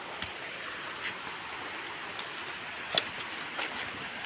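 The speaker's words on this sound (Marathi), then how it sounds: "पाण्याचा तुम्हाला आवाज देखील येत असेल मित्रांनो" Steady broadband wash of flowing water near a traditional fishing spot in Konkan, continuous and fairly faint, with a few soft splashes and drips rising briefly above it and no talk.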